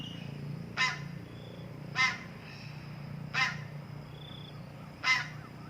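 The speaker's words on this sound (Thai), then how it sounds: "ลูกเป็ดแคบแคบ" Ducklings give four loud, separate quacking calls spaced about a second apart over a steady low background hum, with no talking.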